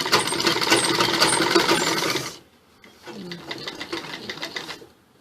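A sewing machine stitches fabric while a line suit with piping is sewn: a fast mechanical whirr for about two seconds, a pause, then a second softer run, close up.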